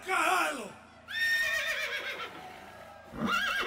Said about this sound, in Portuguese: São gritos de bom cavalo